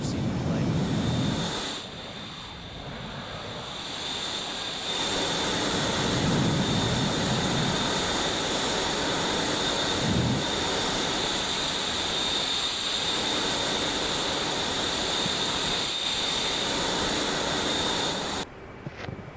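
Jet aircraft in flight in the DCS combat flight simulator, a steady broad engine roar with a high whine running throughout, continuous and fairly loud with small swells, ending abruptly near the close.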